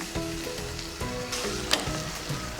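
Tomatoes and onions fry over a low flame in a pan, giving a steady close sizzle with soft scraping stirs and one brief sharp clink partway through.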